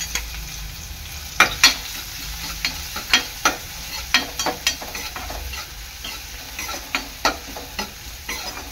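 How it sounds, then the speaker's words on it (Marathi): A crush of ginger, garlic and chili fries in hot oil with a soft continuous sizzle. Close, sharp clinks and scrapes of a spoon stirring the pan recur every half second or so, with no talking. "आता तेल चांगलं गरम झालं का अद्रक, लसूण आणि मिरचीचा क्रश टाकणार आहे।"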